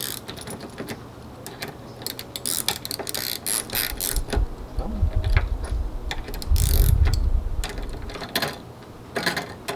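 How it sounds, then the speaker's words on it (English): Two ratcheting wrenches tighten bolts on a Coghlan Designs 100 series rear light bracket, giving close, quick bursts of rapid ratchet clicks with metal taps between them. The clicking grows busier toward the end. "Two ratcheting wrenches, there we go."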